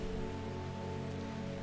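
Steady rain falls on a surface throughout, a dense continuous patter with a faint tonal music bed underneath, within the plant-sorting shop of the video game Strange Horticulture.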